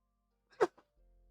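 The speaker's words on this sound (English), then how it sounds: "That was the sneeze I was waiting for." A single short sneeze close by, a sharp burst with a small trailing catch, surrounded by near silence and a faint hum afterward.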